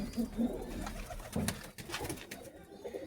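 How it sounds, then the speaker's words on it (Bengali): Red Bull pigeons coo in a loft, low throaty bursts repeating in short phrases over a steady wash of background noise and faint chatter of other birds. "সব মূলত পুরাতন ব্লাড লাইনের কবুতরের বাচ্চা কাচ্চাই উড়ানো হয় সাধারণত বেশি"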